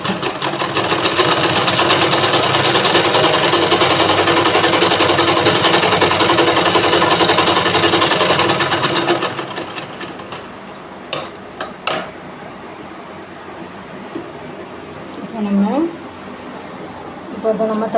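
A sewing machine stitches a blouse in a loud, continuous close whir for about nine seconds, then stops, leaving scattered clicks and handling noises while a voice speaks.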